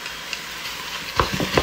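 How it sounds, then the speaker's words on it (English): Pork going into a hot pan for a spaghetti sauce, a steady close sizzle with a few scraping stirs and clicks toward the end. "Let's add our pork."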